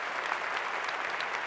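A crowd at a recognition meeting breaks into applause, a thick, continuous wash of many people clapping at steady volume, with no talking over it.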